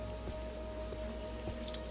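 Steady rain falling in a fantasy video game at a fort, a soft continuous patter with a faint tone underneath, no voices.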